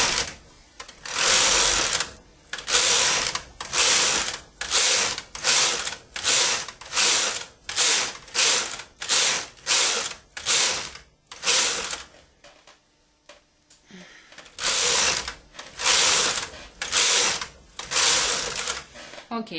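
A domestic knitting machine carriage is swept back and forth across the needle bed while knitting a sample, giving a long series of loud, rhythmic ratcheting passes with brief gaps between rows and a short pause midway.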